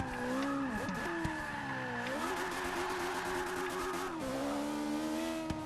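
A 775 bhp Lotus Elise drifting around Indianapolis Speedway in Forza Motorsport 6, its engine screaming steadily at high revs near the limiter, pitch wavering and dipping with gear changes and faint tyre squeal.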